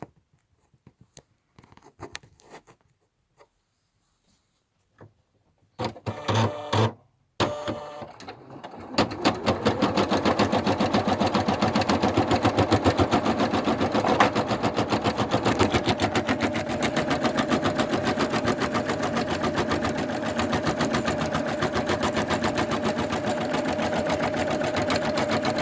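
An embroidery machine stitches out a keychain design. After a few quiet handling clicks it starts up and runs in a steady, loud, fast mechanical chatter of needle strokes for the rest of the time, close by.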